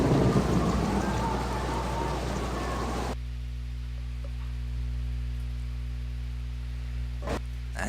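Heavy rain falls in the Baldur's Gate video game, a dense steady hiss that is loud and noisy at first, then drops abruptly to a quieter, even wash over a constant low hum, with a couple of brief crackles near the end.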